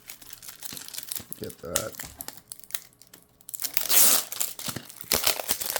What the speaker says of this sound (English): Let's get this plastic cut and get into this here.